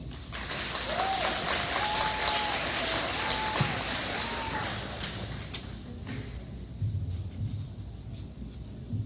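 Audience applause at a graduation ceremony, a continuous wash of clapping from a large crowd that holds steady and fades slightly toward the end, with voices and cheers mixed in.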